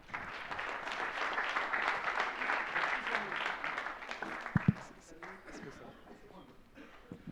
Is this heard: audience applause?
yes